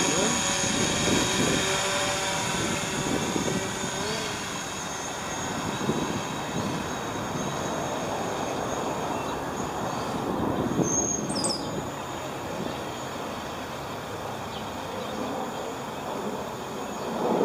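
A small camera drone flies overhead outdoors, giving a steady, fairly loud whirring hum mixed with wind and broadband outdoor noise that runs for the whole stretch.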